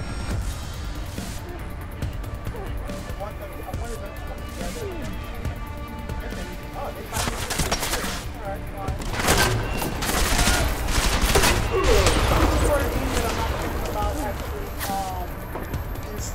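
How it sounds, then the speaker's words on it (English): A grenade launcher and other weapons fire in Deus Ex: Mankind Divided, with repeated blasts and bursts that build toward the middle. Someone talks over the combat. "switch over to a more dangerous gun, grenade launcher"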